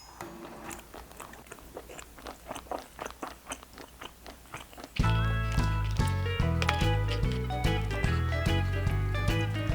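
Someone eats jjageuli, a Korean stew, with thick pork belly pieces, making close crunchy bites and chewing at first. Then a loud background song with a steady beat takes over.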